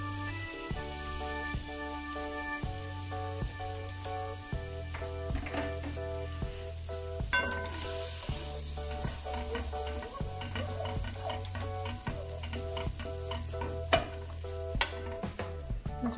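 Butter melts and sizzles in a frying pan at the start of cooking a simple mixed vegetable rice dish, a steady close hiss running under background music.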